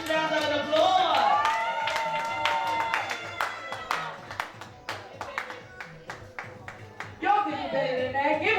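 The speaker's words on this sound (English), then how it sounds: "Let's give her a thunderous round of applause." An audience claps for Gayle Chanefield at a community gathering, with a voice speaking over scattered, moderately loud claps that thin out toward the end.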